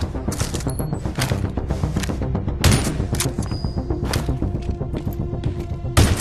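Sniper rifle shots ring out at moving targets on a shooting range in The Division Resurgence, a series of sharp, loud cracks with ringing echoes spaced a second or two apart, with busy mechanical clatter and clicks in between.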